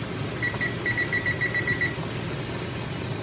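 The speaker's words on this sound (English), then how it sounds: "I'm going to put the timer on for 10 minutes." A kitchen timer set beside a venting pressure canner gives a run of about a dozen evenly paced high electronic beeps in pairs, clear over a steady low hiss and room rumble.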